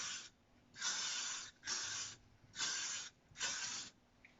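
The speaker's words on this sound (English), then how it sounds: "But I do like the Elnet hairspray" Elnet hairspray misted from an aerosol can in four steady hissing bursts of about half a second each, evenly spaced and close by, with no talking.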